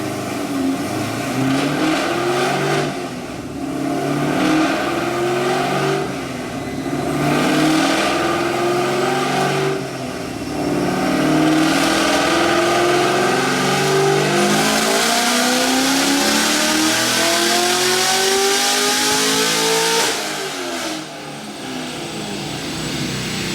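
A Camaro engine with an aftermarket cam roars at high load on a dyno, revving up through rising pitches in several long pulls, loud and close, with brief drops between runs and no talk.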